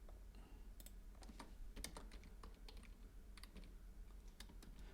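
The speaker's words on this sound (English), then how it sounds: "I'm typing a poll up here in Discord." Bursts of computer keyboard typing: scattered clicking keystrokes in uneven clusters, near and fairly quiet, with a faint background hum.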